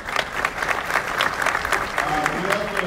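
Audience clapping at a mayor's State of the City address, a steady wash of many hands filling the room, fairly close and continuous, with faint voices murmuring underneath.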